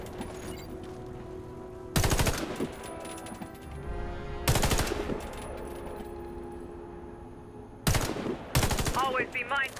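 Gunfire in the Warface shooter game, short bursts of rapid automatic fire aimed at a training target, several loud separated volleys with ringing tails and shell-casing clinks between them, over a low ambient game backdrop.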